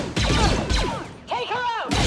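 Gunfire from attackers in the Star Wars Outlaws video game comes as a few sharp, loud bursts spaced across the moment, mixed with voices speaking in between.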